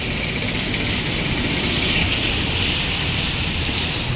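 Heavy rain falls as a dense, even hiss of drops hitting surfaces, loud and unbroken for a few seconds, with no voices.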